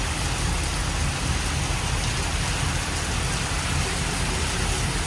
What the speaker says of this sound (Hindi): ज़्यादा ज़ोर से बारिश हो रही है।